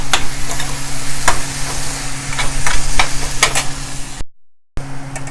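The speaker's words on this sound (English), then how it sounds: "And I will keep on stirring them till they are mixed." Chopped onions, tomatoes, salt and green chili sizzle loudly in a pan while a spoon stirs them, scraping and clinking in irregular strokes over the frying hiss, with a brief dropout near the end.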